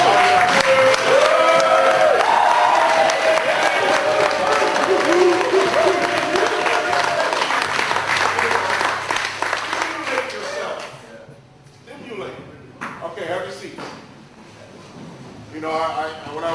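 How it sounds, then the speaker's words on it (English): A live audience claps and cheers loudly and continuously for about ten seconds at a lively stage show. The applause then thins out into scattered claps and crowd murmur. "Hit him up real good with the claps."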